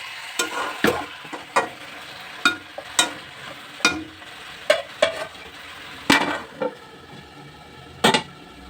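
Chicken curry being stirred and fried in a pan, a soft steady sizzle under repeated sharp scrapes and knocks of a spoon against the metal, irregularly spaced and close.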